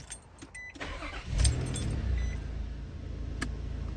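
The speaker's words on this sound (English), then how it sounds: "go ahead and get behind the wheel and start her up" A car engine cranks and catches after a transmission fluid refill, a brief starter whir rising into a quiet, steady idle up close, with light jingling at the start.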